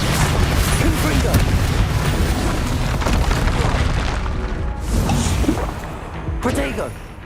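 Blasting spell explosions from the Hogwarts Legacy video game boom repeatedly amid dense combat effects and whooshes, loud and continuous, with a voice casting spells over the din.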